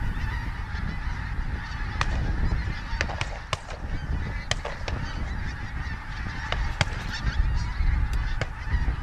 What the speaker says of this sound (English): we can see huge numbers of geese flighting overhead.